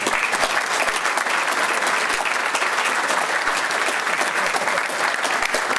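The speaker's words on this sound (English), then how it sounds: "Please keep the applause going for Peter Nixon and Doug Anthony." A large crowd at a 2014 party federal council gives sustained, dense applause for Peter Nixon and Doug Anthony, loud and steady throughout without letting up.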